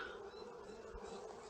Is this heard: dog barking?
no